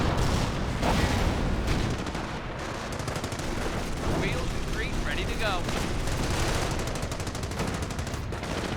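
An artillery barrage in the Company of Heroes video game, with dense bursts of gunfire and explosions rumbling continuously under a voice talking over the battle.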